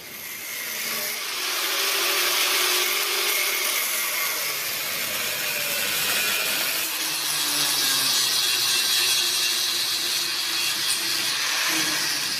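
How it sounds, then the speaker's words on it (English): Power-tool cutting through a steel panel on a Land Rover in a workshop, a continuous loud abrasive whine and rasp that runs steadily for the whole stretch with no talk. "So I think I'm going to cut this off here altogether."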